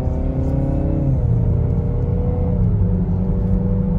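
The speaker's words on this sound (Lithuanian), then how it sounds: "Tai šiek tiek duosiu gazą." A 2014 Chevrolet Camaro with a 2.0 petrol engine revs loud and close, its engine tone climbing and then easing back in steady swells with no talking.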